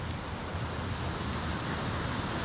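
Water flowing in a stream beside a weir with a three-to-four-foot drop gives a steady, dense rushing wash, close and continuous with no voices.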